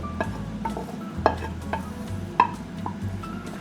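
A wooden spoon stirs warm fried onion into a meat-and-rice stuffing for stuffed peppers, giving soft, irregular scrapes and a few sharper knocks against the bowl close by, over a low steady hum.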